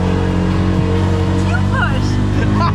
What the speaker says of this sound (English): this little tuk-tuk was barely making it in first gear